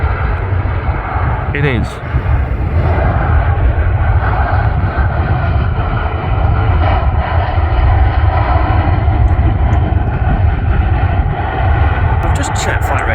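An Austrian airliner passing at Manchester Airport gives a loud, continuous engine roar that fills the whole stretch, with someone briefly speaking over it.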